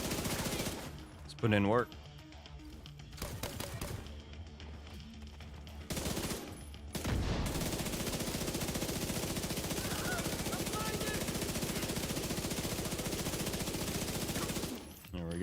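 An SMG9 submachine gun in The Division 2 fires in rapid bursts among other gunfire, with someone talking briefly over the shooting.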